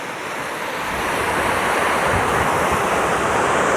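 Floodwater in Jaffna rushes steadily through an opened channel, a dense, loud, continuous roar of churning water that swells slightly and holds without pause.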